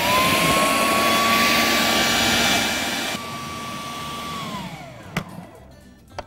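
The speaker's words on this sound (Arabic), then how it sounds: "تعالوا بقى نضرب مكونات الكيكه" An electric blender whirs loudly and steadily as it purees banana for a gluten-free cake batter, then winds down and stops, followed by a few clattering knocks.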